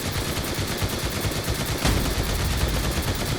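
Defensive turrets in the zombie survival game Night of the Dead fire a loud, unbroken stream of rapid automatic gunshots with no pause, sounding dense and close throughout.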